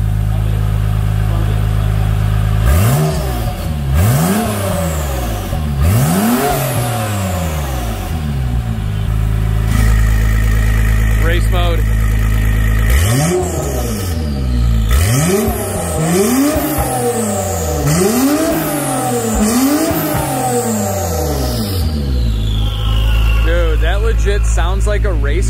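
Chevy Express 3500 van with an aftermarket exhaust, its engine revved repeatedly: loud, close blips that climb and fall in pitch over a steady idle rumble, in bursts throughout.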